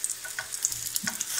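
Vegan cabbage zrazy fry in a pan, giving a steady, soft crackling sizzle with small spattering pops throughout, fairly quiet and with no talking.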